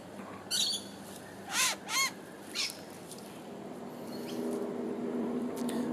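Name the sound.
noisy miner alarm call warning of a predator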